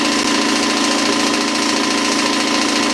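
Campbell Hausfeld air compressor running through its break-in, a loud, steady mechanical drone with a fast pulsing hum that holds unchanged throughout, close by and with no talking.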